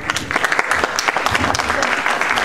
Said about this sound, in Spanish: El señor Abraham Segura, a quien nos recibimos con nuestras palmas.